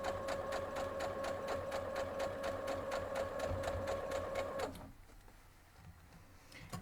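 A sewing machine stitching down quilt fabric for flying geese blocks, a fast steady mechanical whir with rapid regular needle ticks, close, stopping abruptly partway and leaving quiet room tone, no talk.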